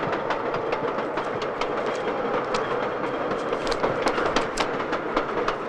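A train runs steadily on its rails throughout, a loud continuous rumble with a rhythmic clickety-clack of wheels over the joints, close and without voices.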